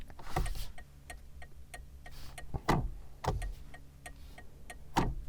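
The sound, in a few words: car turn indicator clicking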